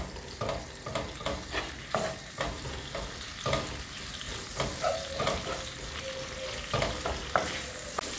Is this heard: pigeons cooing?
no